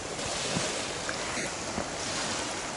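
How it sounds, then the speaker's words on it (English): Wind blows hard across the microphone by Coniston Water in the Lake District, with steady broadband rushing and gusts that may include waves on the shore, loud and continuous. "Wind's picking up, sun's going down."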